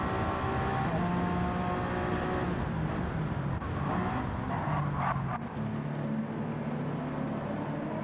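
Race cars in a racing video game at Watkins Glen, with engines droning steadily throughout and a car sweeping through a 90-degree turn, its tone shifting midway, with brief tire noise.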